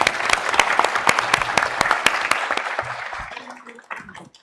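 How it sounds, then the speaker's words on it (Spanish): Audience applause at an academic panel on Nuremberg and international justice, loud clapping that fades out over a few seconds, with no talk over it. "Un aplauso, por favor"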